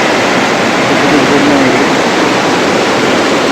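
A swollen river after heavy rain roars in a dense, steady rush over large submerged stones, loud and continuous with no breaks.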